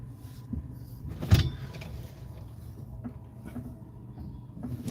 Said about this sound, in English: A hybrid is driving by, or a Tesla.